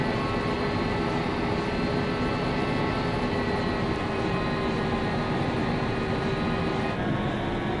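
Red Arrows jets roar steadily past alongside the runway during a display, a loud continuous broadband engine rush heard from onboard with no talk.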